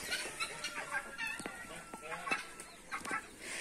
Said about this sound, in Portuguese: É uma pata com seus três patinhos.